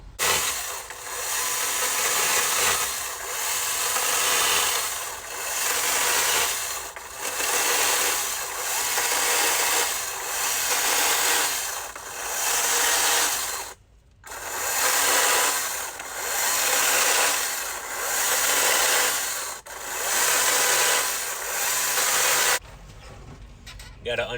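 A chainsaw with a dime tip bar carves into a 2x4, its engine rising and falling in a regular pattern of roughly eight cutting passes. It is loud and close, cuts out briefly once, then stops near the end.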